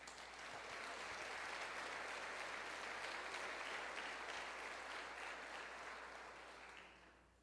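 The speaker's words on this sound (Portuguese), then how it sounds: "Aplauda o Senhor." A church congregation applauds the Lord during a sermon, a thick, sustained burst of many hands clapping that swells, holds, then fades toward the end.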